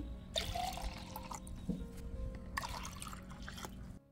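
Water poured from a cup into a blender jar for strawberry lassi, a steady low trickle and splash running close up for a few seconds, with small knocks of the jar in between.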